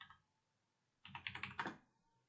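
A one-time password is typed on a computer keyboard in a quick burst of about half a dozen close keystrokes after a brief pause.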